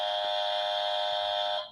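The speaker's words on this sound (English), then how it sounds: "What's that? It's a buzzer." Buzzer sounding, a loud steady electronic tone held for almost two seconds before cutting off, heard on its own without voices.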